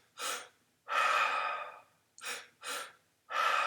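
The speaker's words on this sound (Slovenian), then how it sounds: "Skozi usta dihamo in ponavljamo ta dih." Slow, rhythmic breaths drawn in and out through the mouth during a guided breathing meditation: five close breaths, the longer ones alternating with shorter ones, separated by brief silent gaps, with no talking.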